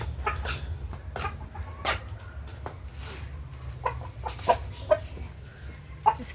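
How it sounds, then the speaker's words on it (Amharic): A domestic chicken bought at a market gives a few soft, scattered clucks over a low background hum, fairly faint and close. "ዛሬ ቆንጅዬ ዶሮ ገዝቻለሁ።"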